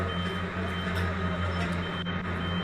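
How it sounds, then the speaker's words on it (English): A truck's reversing alarm beeps steadily in the background over constant low engine hum and broad noise, with no talk. "looks like a truck is reversing in the background"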